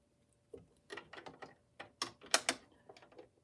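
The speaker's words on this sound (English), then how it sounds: "I am just going to place the bobbin cover on the machine" A bobbin cover being fitted onto an embroidery machine makes a run of close, crisp plastic clicks and small mechanical ticks, uneven in rhythm, building to a sharper snap near the end.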